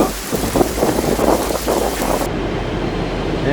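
Gusty wind buffets the microphone on a beach, a loud broadband rush with the surf mixed in, steady with no talking.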